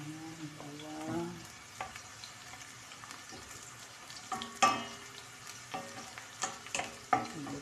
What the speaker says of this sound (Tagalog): Lutuin muna natin to ng bawang para ano, may amoy.